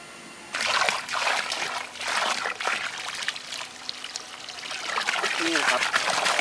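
Water from a 12V DC submersible solar pump gushing and splashing steadily, a loud close broadband rush that starts abruptly after a brief pause and continues throughout.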